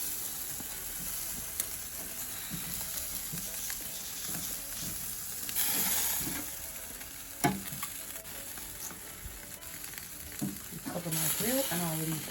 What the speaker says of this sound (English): So I'm just going to turn them over, make sure that they're grilling beautifully and not burning.